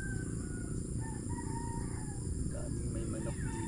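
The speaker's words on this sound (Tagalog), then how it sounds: "Grabe, ang ingay ng mga manok dito." Chickens and a rooster, fighting cocks kept nearby, crow and cluck repeatedly over a steady dense farmyard din, several birds calling at once from close and farther off.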